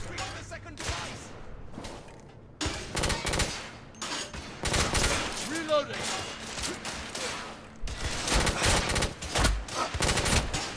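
Bursts of rapid automatic gunfire from a heavy-recoil gun in The Order: 1886 on PS4, aboard a zeppelin. Loud, close volleys come in clusters with short pauses between them, and voices appear at times.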